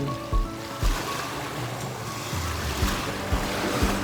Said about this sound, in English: this was Gordi's first time ever seeing the ocean, and boy did he love it